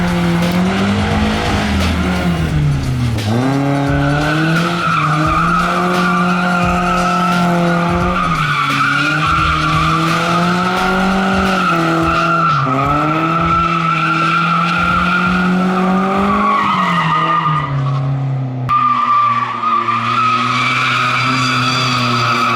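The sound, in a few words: car drifting with skidding tires on street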